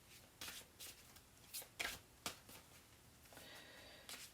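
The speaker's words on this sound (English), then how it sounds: "I can't shuffle fast enough" Close, quiet shuffling of a tarot deck comes in irregular sharp riffles and slaps, with a softer sliding rustle near the end and no voices.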